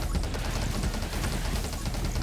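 Rapid, continuous bullet and flame-cannon gunfire in the survival shooter 20 Minutes Till Dawn, a dense, steady barrage of shots filling the whole stretch at constant loudness with no talk.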